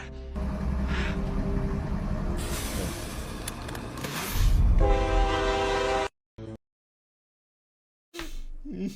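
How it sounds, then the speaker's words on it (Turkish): Train sounds in a video game: a continuous rumble with clacking and a horn-like tone, loud and close, then a sudden cut to near-silence before a noisy burst returns. "Yanlışlıkla tren inşa ettim."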